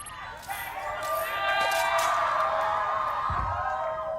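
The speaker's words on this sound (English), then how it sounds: "They're cheering!" A large arena crowd cheers and whoops at a VALORANT Champions Tour esports match. The roar swells loudly and holds as a sustained wave, with excited voices mixed in.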